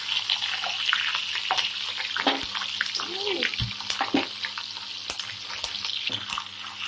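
Ginger garlic paste sizzles and spatters in hot oil in a pan while cooking a Punjabi-style mixed vegetable sabzi, a steady close crackle with occasional stirring clatter.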